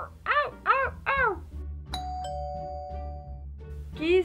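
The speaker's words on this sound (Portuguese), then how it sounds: "Preciso trocar a campainha." A doorbell chimes a ding-dong, then rings out with a long sustained electronic tone that fades, preceded by a few harsh caw-like calls and followed by another loud burst at the end.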